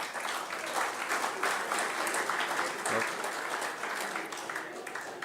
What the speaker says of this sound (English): Round of applause for the kitchen staff